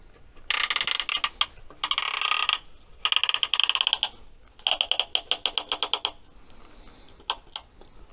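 A ratchet wrench tightens a bolt on an engine during piston reassembly, sounding in several bursts of rapid, close metallic clicking with short pauses between them and slower single clicks toward the end.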